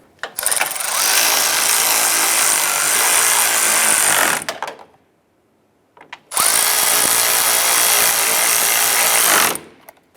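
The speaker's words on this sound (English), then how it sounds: "I'm going to go ahead and install our two lower 10 millimeter bolts right here." A power tool drives 10 mm bolts into the lower headlight mounting bracket of a 2011-2018 Ram 1500, with two loud, sustained bursts of whirring and rattling about four and three seconds long, separated by a short pause.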